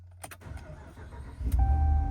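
A 2021 Ram 1500 pickup's engine starts after a few clicks and a short cranking burst, then catches and settles into a steady low idle, heard close up with no talking.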